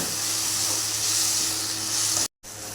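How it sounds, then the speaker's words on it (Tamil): Pepper, ginger-garlic, fennel, cloves and cinnamon sauté in a hot pan for chicken varuval, giving a steady, close, loud sizzle that runs unbroken before a brief cut near the end. "அதை போட்டு நல்லா வதக்கிக்கணும்"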